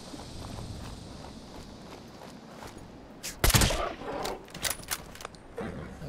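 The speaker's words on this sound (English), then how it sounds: "I'm shooting him in the leg so they can't run away" Gunfire in Fallout 76, a loud shot near the middle followed by several sharper cracks at irregular intervals, mixed with footsteps over a steady outdoor background.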